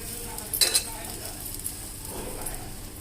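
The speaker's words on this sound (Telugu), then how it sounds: "మనం బియ్యం పిండి అట్టు పోసుకుంటాం చూడండి పల్చగా" Thin rice flour dosa batter, mixed with spring onion and coriander, sizzles on a hot pan, a steady soft hiss with a brief louder splash of sizzle near the start and quiet scraping later.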